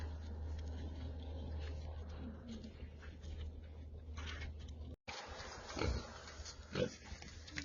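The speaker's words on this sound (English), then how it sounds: "I like to feed my pigs pumpkins" Pigs eating pumpkins on a farm in winter: faint grunting and chewing with small pattering sounds over a low hum, getting louder in the second half.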